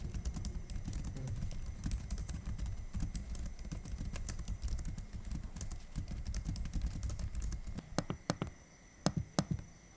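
Fingers type rapidly on the keyboard of an Axioo Pongo 755 AMD gaming laptop, a dense run of close, crisp key clicks that thins into a few separate taps at the end.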